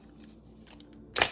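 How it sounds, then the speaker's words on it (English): Soft rustling of tarot cards being shuffled close by, ending in a brief, sharper flutter. "I'm having trouble shuffling too"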